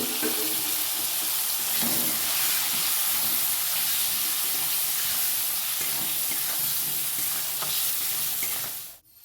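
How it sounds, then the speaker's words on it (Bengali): Half-boiled potatoes and peas fry in a pan, a dense hiss of sizzling with occasional stirring scrapes, continuous and close until it abruptly cuts off. "আলুর সঙ্গে মটরশুঁটিটাও ভাজা হয়ে গেছে"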